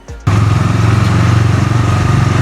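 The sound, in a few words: motorcycle riding off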